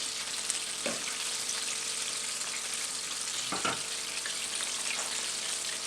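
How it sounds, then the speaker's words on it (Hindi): Crispy chicken pieces half-frying in hot oil give a steady, close, bright sizzle, broken by a few soft stirring knocks from a spoon. "पहले हाफ फ्राई करूँगी, फिर बाद में दोबारा फ्राई करूँगी फाइनल"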